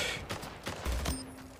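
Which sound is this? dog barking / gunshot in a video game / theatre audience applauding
gunshot in a video game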